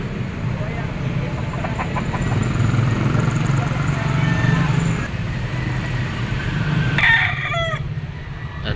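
A sweater stag rooster crows at a poultry auction market in Lipa, its calls rising near the end over a steady hum of crowd noise and people talking.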